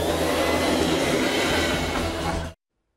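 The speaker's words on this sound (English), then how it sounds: "That's not a tent. It's a vacuum cleaner." A vacuum cleaner runs with a loud, steady broadband roar for a couple of seconds before cutting off abruptly into silence.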